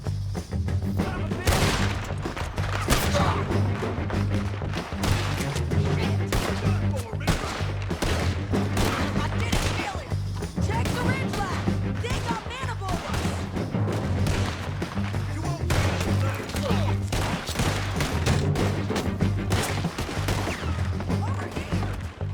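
Dense gunfire shootout in Red Dead Redemption 2: rapid, continuous volleys of gunshots and booms, loud and sustained throughout, with voices occasionally under the shooting.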